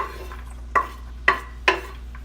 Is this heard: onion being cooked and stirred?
yes